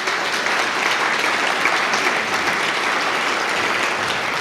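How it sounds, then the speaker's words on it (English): A museum audience claps in a dense, even round of applause for donors and supporters, the steady wash of many hands holding at a constant level throughout. "So please give them a round of applause."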